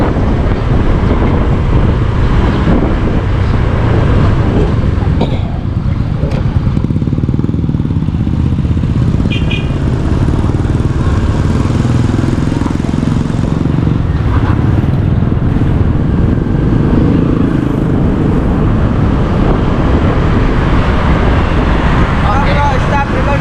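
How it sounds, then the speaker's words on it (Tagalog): Motorcycle being ridden along a road, steady engine drone mixed with heavy buffeting wind noise on the microphone throughout, with a voice talking over it at times. "Tuloy pa naman ang motor ni Japper na yan."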